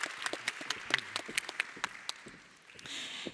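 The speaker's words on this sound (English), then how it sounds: "a big warm round of applause for Minister Jaffrey" Scattered audience applause for a minister in a conference plenary hall: a few distinct claps, moderately close, thinning out toward the end, where a voice briefly comes in.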